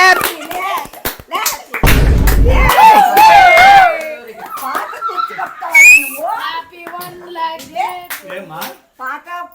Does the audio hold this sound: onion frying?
no